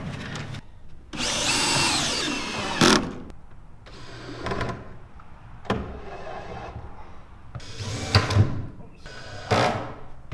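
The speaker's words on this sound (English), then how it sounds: "at least one of these screws on each of these hinges I'm going to replace with a big 4-inch structural screw to go into the wall." A power drill drives big 4-inch structural screws through door hinges into the wall, running in several loud, close bursts with short pauses between them.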